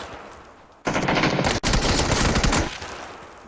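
An MG3 machine gun fires full auto in PUBG, delivering two dense, loud bursts of rapid gunfire with a very brief gap between them, after a quieter lead-in, then tapering off.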